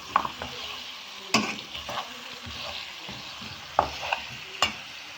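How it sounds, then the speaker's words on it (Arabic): Tomato paste sizzles gently with spices and chicken in a pot for an Iraqi red chicken dish, soft frying hiss broken by several sharp spoon scrapes and knocks as it is stirred. "هسه يا حبايبي حمست المعجون هيك حمسة بسيطة حتى ما يحترق"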